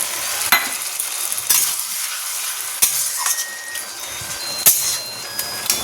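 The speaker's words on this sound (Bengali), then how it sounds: "ভাজা ভাজা হয়ে গেছে, এবার এর মধ্যে দিয়ে দেবো এই যে শস্যগুলো রেখেছি" Grains being fried and stirred in a hot pan, with a constant loud sizzle broken by sharp scraping ticks of the spoon against the metal at irregular intervals.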